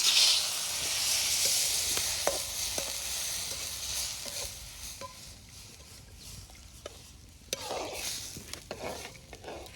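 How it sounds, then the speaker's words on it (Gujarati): Milk is poured into a hot pan of ghee and coconut mixture for coconut laddu, starting with a loud hissing sizzle that fades into softer bubbling and scattered stirring scrapes. The sounds are close and no one speaks. "મિત્રો હવે દૂધ વેર દઈએ હવે દૂધ વેરા"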